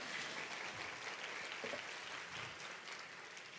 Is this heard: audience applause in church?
yes